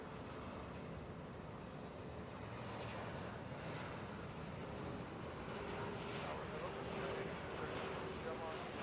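A Boeing 737 airliner arriving at Atlanta airport makes a steady, distant jet roar that holds evenly throughout, a faint broad rumble with radio voices faintly present.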